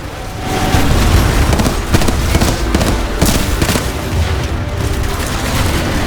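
Rapid bursts of gunfire and explosions from the video game Titanfall 2, loud and dense throughout with crackling impacts layered over each other.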